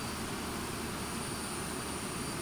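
Steady, loud jet roar from Avro Vulcan engines during a rapid start in a flight simulator game, a constant dense rush with a faint high whine and no talking.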